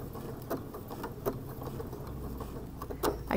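A sewing machine runs a satin stitch along a fabric edge, a faint, even, rapid patter with a few soft clicks in a quiet room.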